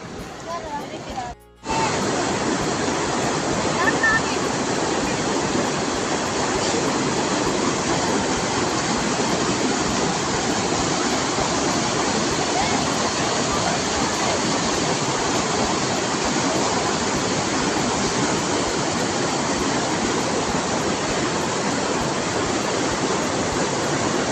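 Loud, unbroken roar of strong flowing water at a dam, close and constant throughout, after a brief quieter moment at the very start.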